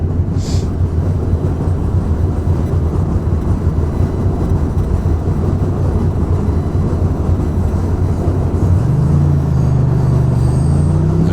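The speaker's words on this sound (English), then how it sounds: "Train going overhead." A train rumbles overhead on an elevated line above Broadway in Brooklyn, a steady loud low roar filling the whole stretch with no talk, and a rising tonal whine joins near the end.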